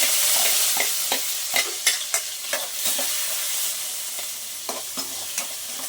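Chopped onions and green chillies sizzle steadily in a pan, with a spoon scraping and stirring in irregular clinks over the constant frying hiss.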